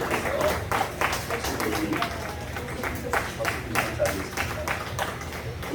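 A church congregation breaks into steady applause during a Sunday sermon, many hands clapping together in a dense, continuous wash at fairly close range.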